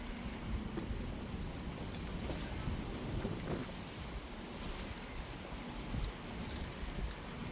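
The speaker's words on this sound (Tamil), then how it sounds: "பாருங்க, நல்லா எங்கள் ஊரில் காற்று அடிக்குது." Steady wind rushes and buffets outdoors, a constant low roar with faint rattling, no voices present.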